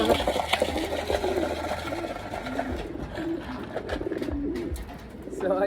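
Racing pigeons arriving at a loft during training, with wing flutters and soft cooing, close and moderately quiet, amid scattered knocks and shuffling noises.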